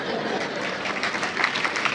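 An audience claps throughout a motivational talk by Dr Parveen Sultana, a dense, continuous patter of applause at a moderate, steady level with no voice over it.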